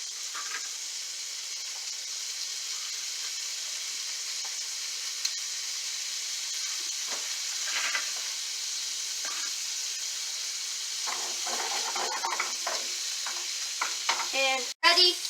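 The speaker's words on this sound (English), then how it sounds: "we're going to put the ham in to crisp it up" Ham crisps in a pan with a steady, moderate sizzle and hiss from frying, with occasional stirring or scraping taps toward the end.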